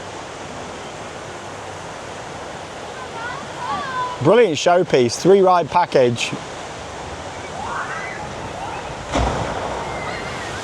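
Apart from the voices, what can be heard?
water ride boat splashing down the drop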